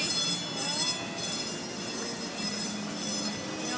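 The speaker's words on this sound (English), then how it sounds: "The train getting ready to go?" A train sits nearby with a steady mechanical hum and faint metallic squeals and clinks over moderate background noise, without talk.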